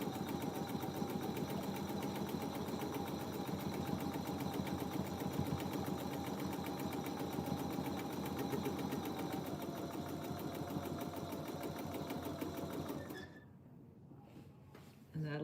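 A sewing machine runs steadily while stitching a quilt along the inside of an earlier seam line, producing a close, fast continuous whirring needle chatter that stops abruptly near the end.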